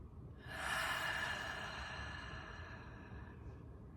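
Deep breaths drawn in slowly and let out through a wide-open mouth, one long, breathy exhale swelling early and fading over several seconds, close and soft in a quiet room.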